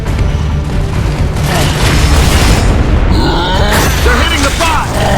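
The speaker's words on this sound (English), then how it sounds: "Throwing frag!" A frag grenade explosion in the video game Gears of War: Judgment booms loudly through a dense wash of battle noise, with voices and grunts heard throughout.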